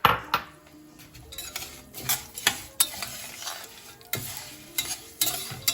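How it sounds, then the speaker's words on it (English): A spoon stirs aniseed, sultanas and chopped almonds in a pot, with repeated scraping knocks and metallic clinks against the pan over a soft frying sizzle, close and steady with no talking. "I'm going to stir in the almonds that I chopped up"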